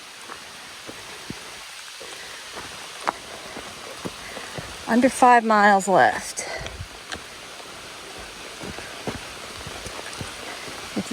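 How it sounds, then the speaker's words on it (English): Raindrops patter on a river in a continuous light hiss with scattered distinct drips, while a person briefly speaks midway over the rainfall. "Raindrops on the river."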